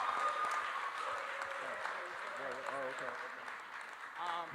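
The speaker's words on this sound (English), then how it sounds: "Please join me in giving a round of applause to our panelists." An audience at an educational summit at Laney College applauds its panelists, a steady spread of clapping filling the room while a voice talks over it and a few voices murmur nearby.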